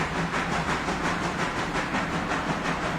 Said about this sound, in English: I love it when he's pouring out the steam.